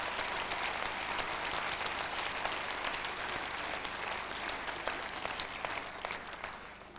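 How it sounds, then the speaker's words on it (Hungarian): Audience applause for children's folk dancers at a dance ensemble's 25th anniversary show, steady dense clapping throughout. "Kérem, tapsoljuk meg ezeket a gyerekeket"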